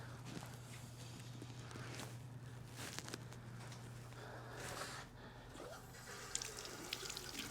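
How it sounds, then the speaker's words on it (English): Tap water runs into a pottery studio sink while glaze is washed off hands, a near, continuous splashing stream with occasional clunks and scrubbing over a low hum. "And then get my hand washed off."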